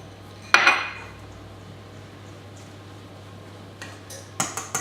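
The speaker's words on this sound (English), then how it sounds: "I'm going to fold in my hazelnut meal" Hazelnut meal is folded into friand batter in a bowl. A loud utensil clink against the bowl opens, then quiet scraping follows, and a few more sharp taps ring near the end.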